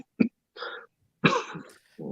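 A few short, close coughs and throat-clearing bursts come one after another with quiet gaps between them, in a hip hop talk show setting.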